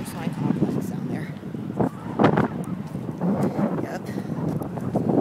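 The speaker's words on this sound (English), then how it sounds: "It's quite windy, actually. It's so windy, it's hurting." Strong wind buffets the microphone in continuous gusty rumbling, with a person speaking briefly over it.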